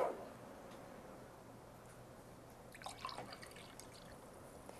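Water is poured back into a container, with a soft trickle and drips that swell briefly near the end, faint against a quiet room.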